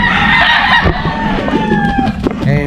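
Several roosters crow in overlapping, drawn-out calls at close range, joined by clucking chickens. The calls rise and fall loudly over a busy farmyard backdrop, one after another.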